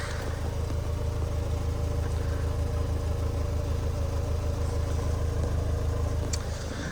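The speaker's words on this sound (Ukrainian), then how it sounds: "двигун працює рівненько, вихлопні чистенькі" A Ford Kuga 2.0 TDCI diesel engine idles steadily up close, an even low rumble with a continuous hum and no changes in revs, running alone with no talk.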